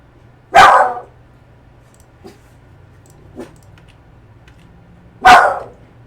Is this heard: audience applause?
no